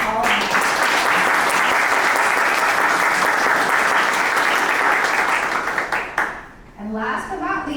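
Sustained, loud applause from a crowd honouring mentors, coaches and judges at a university venture competition final, steady for about six seconds before tapering off into scattered claps and murmurs.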